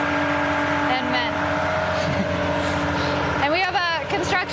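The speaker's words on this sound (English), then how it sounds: "They're pouring the concrete pad for the 30 by 30 today. That's why there are so many trucks and men." Heavy construction trucks idle and rumble at a site where a concrete pad is being poured for a 30 by 30 building, a steady engine drone with people talking over it.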